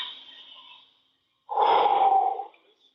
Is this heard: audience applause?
no